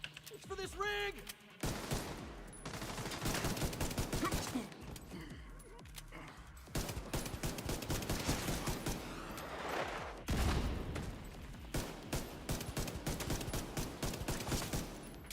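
Rapid, dense pistol fire in a PvE video game, with shots cracking in quick irregular bursts that run almost continuously, loud and close, after a brief quieter opening.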